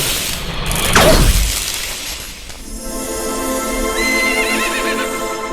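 A horse neighs loudly and close, a falling whinny followed by a rapid fluttering snort, set against a sustained musical backdrop.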